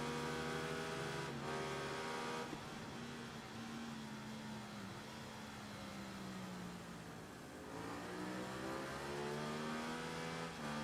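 An Aprilia motorcycle in the racing game Ride 3 revs hard through its gears, the engine note climbing, dropping at shifts and rising again, steady and fairly quiet with no talk over it.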